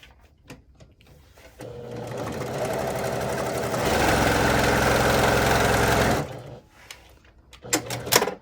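A powerful sewing machine stitches scrap quilt pieces for a log cabin heart in one loud, sustained run that speeds up midway, framed by softer clicks and fabric handling.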